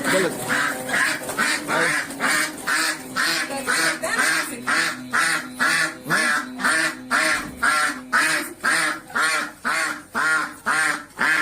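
Domestic ducks quack loudly and continuously up close, a dense repeated chorus of harsh calls in steady rhythm with little pause.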